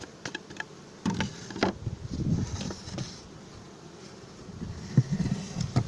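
Honey bees drone steadily around an open hive being split into a new colony, a dense close buzz with occasional louder passes and soft handling knocks mixed in.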